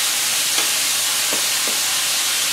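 Onions, garlic, carrots and celery sautéing in a pan for a marinara sauce with shrimp, a loud steady sizzle with a few soft stirring scrapes, no talking.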